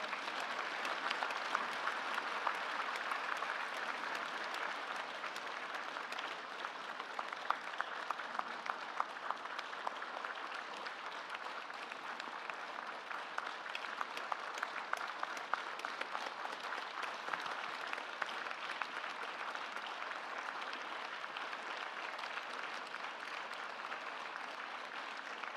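Sustained audience applause fills an award ceremony hall, a steady dense wash of clapping that stays even and fairly distant for the whole stretch with no talk over it.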